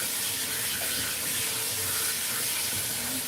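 Water runs steadily from a tap to rinse a Ragdoll cat during grooming, a continuous close hiss and splash with no pauses.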